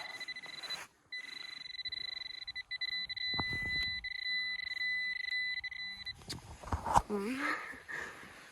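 While digging in a forest beside an old road, a handheld metal detector gives a steady two-tone electronic beep over a buried bronze object, with a few pauses. Quiet talk and digging noises come through underneath.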